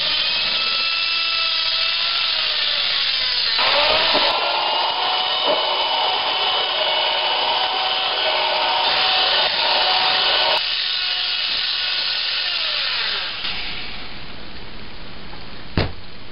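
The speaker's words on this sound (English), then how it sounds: "Now we're going to mix it up, break everything down as best we can." Ripe banana mash for brandy moonshine being mixed and broken down with a steady electric drill-type mixer, a loud continuous whirring drone that shifts pitch as the load changes, with no talking, then cutting off near the end.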